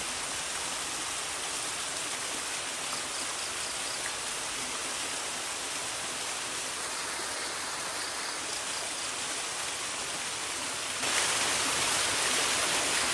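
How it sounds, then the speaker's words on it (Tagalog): Steady broadband rush of a flowing river, constant and fairly close, with no voices; the hiss brightens slightly near the end. "Yung ilog na to."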